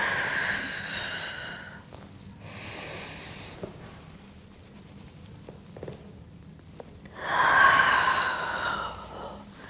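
Breath sounds during a hip-awareness exercise session: a couple of breathy exhales with soft hissing bursts near the start and end, separated by quieter stretches with faint movement noise, no talking.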